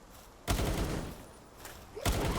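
Gunfire from a Pal creature carried as a firearm in the video game Palworld: two loud broadband bursts, a sustained volley from about half a second and another near the end, separated by a quieter stretch.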